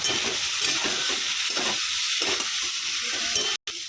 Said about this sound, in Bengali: এবার দেবো লবণ, এবার দেবো হলুদ। এখন করব নাড়াচাড়া।